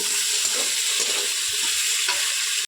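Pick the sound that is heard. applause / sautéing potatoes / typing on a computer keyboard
sautéing potatoes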